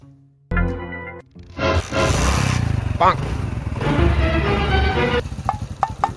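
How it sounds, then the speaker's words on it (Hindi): A motorcycle engine starts and revs loudly nearby, idling with a rough rumble, with a few short clanks near the end. "ये ले मोटरसाइकिल, अब चल काजी के पास।"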